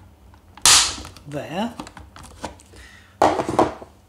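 Chopping cuts into a plastic Bruder Jeep chassis during an RC conversion: two sharp, loud crunching snips about three seconds apart, with a brief spoken word between them.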